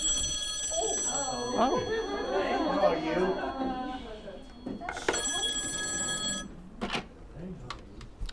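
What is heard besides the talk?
phone ringing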